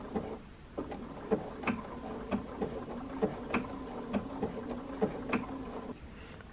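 A sewing machine stitches a test blanket stitch for appliqué, a quiet, steady mechanical clatter of evenly spaced ticks repeating about three times per second throughout.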